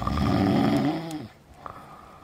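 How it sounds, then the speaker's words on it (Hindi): Loud, close snoring from a man sleeping under bushes by a river, one long rasping breath that fades, followed by quiet. "सबसे बड़ा भाई झाड़ियों के नीचे पड़ा जोरों से खर्राटे ले रहा है।"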